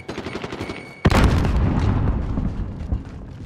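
A frag grenade blows up with a sudden loud, close boom in Call of Duty Warzone, followed by a rumbling, debris-filled tail that slowly fades, after a stretch of quieter gunfire and game noise.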